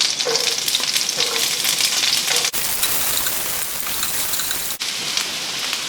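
Onions sauté in a hot pan with a steady, bright crackling sizzle, close and fairly loud, broken by two brief cuts where the sound drops out for a moment.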